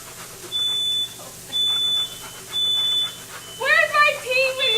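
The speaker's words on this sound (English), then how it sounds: "I'm just going to do the rest of the show with the smoke detector going on." A kitchen smoke detector sounds three long, loud electronic beeps at a steady pace during cooking of skillet pizza chicken and pasta, followed by a person speaking.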